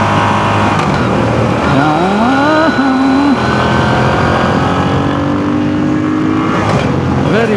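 A Moto Guzzi V7 Sport motorcycle engine drones loudly while being ridden, its pitch rising and falling as the rider shifts and accelerates, with steady wind noise throughout.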